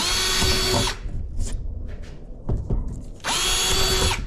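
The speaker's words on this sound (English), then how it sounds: "I am going to pre-drill the holes" A power drill pre-drilling holes into plywood whines at full speed, stops briefly with a few clunks and short bursts, then revs up again loudly, close by.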